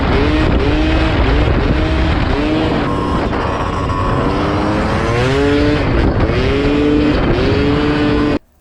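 A Gilera 180 motorcycle engine being ridden, loud and close, revving up and down in repeated rising and falling pulls that end abruptly.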